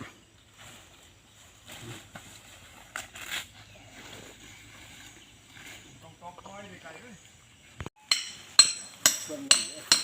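Sharp metallic hammer strikes ring out in a quick series near the end as pegs are driven into a tree, after a quieter stretch of faint outdoor clatter and murmuring voices.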